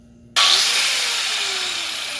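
A Lidl Parkside angle grinder fitted with a diamond cut-off wheel starts abruptly after a brief quiet moment, then holds a loud, high whine close by.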